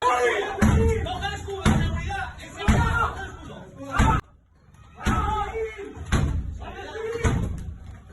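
A sturdy European door is struck repeatedly by police trying to break in. Heavy impacts land roughly once a second, with a short pause in the middle, over a constant background of voices and commotion.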